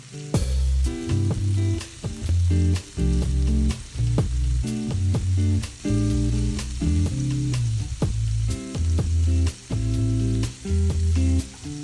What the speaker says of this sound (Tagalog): I just seasoned the shrimp na nilinis ko and seared it in a pan